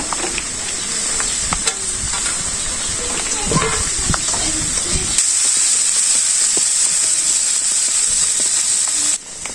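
Small puti fish sizzling in hot spices and cumin in a pan, a steady bright frying hiss with occasional stirring clatter, loud and close throughout.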